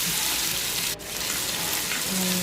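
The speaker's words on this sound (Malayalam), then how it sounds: "അതൊന്ന് മൂത്ത് വരുന്നതിന് നമുക്ക് വഴറ്റി കൊടുക്കാം" Crushed chilli, ginger and garlic sautéing in a pan after mustard seeds have popped, for Kerala mackerel curry: a loud, dense, continuous sizzle close up, with a momentary dip partway through.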